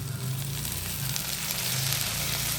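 Tomatoes sizzle in hot oil with golden fried onions for a homemade chicken curry, a steady close frying hiss running unbroken and without any talk.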